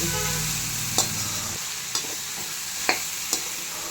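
Mixed vegetables (potato, yam, plantain, taro, eggplant and cabbage) sizzle steadily in a pan with salt, with four sharp scrapes of the spoon against the pan spaced across the clip, close and alone.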